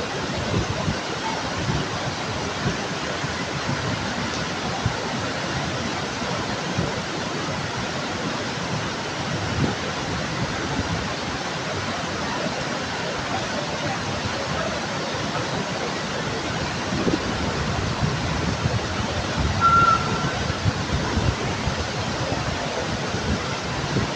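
Water pours heavily off a railway station shed at Khed, Ratnagiri, in a waterfall-like cascade, a loud, unbroken broadband rush with no pauses from start to end.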